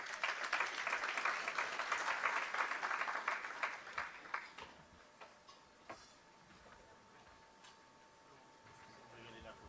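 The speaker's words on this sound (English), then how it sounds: "We can encourage him with a round of applause." An awards ceremony audience applauds at moderate distance for about four seconds, then the clapping thins into scattered claps and fades to a quiet room.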